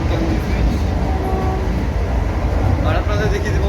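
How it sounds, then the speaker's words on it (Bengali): The Howrah to Puri Vande Bharat Express, train 22895, gives off a low rolling rumble and rail noise close by, with a person talking over it. "এই হচ্ছে ট্রেন।"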